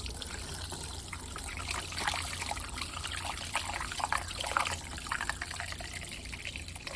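Fire cider trickles and pours steadily through a strainer into a jar, a continuous close liquid dribble with small splashy surges, heard alone without talk.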